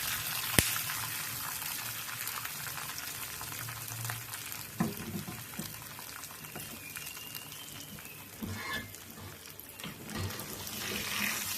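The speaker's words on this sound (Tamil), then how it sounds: "நல்லா பொரிஞ்சிட்டுது அப்படியே பொங்கலில் போட்டுடலாம்" A fried tempering for temple-style pongal crackles and hisses steadily at moderate volume, with a few scraping and clinking knocks of a spoon or pan. No one speaks.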